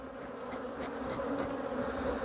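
Continuous buzzing of honeybees at an open hive, a steady droning hum close by with no voices.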